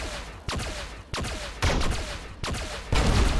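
Video game combat with a grenade thrown at close range: repeated heavy gunfire bursts and blasts crash in four or five loud, abrupt waves, each cutting in sharply over a continuous rumbling din, with no talking.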